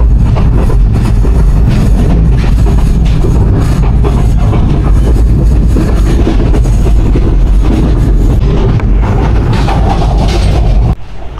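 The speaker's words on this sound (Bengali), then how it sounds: "আমাদের ট্রেন এই মুহূর্তে থ্রুপাস যাচ্ছে মিরসরাই স্টেশন" A train on a meter gauge line in Bangladesh runs through a station without stopping, a loud, continuous rumble and clatter of wheels and carriages heard close from on board.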